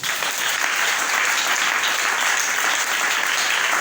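A church congregation at a revival service applauds and cheers for Jesus, a dense, steady wash of clapping filling the space without pause.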